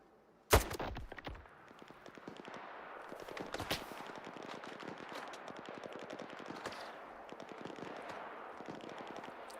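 Gunfire in the video game STALKER 2 on Master Mode: a sharp loud shot opens, then rapid bursts of automatic fire crackle on and off, with a dense, rattling string of shots continuing to the end.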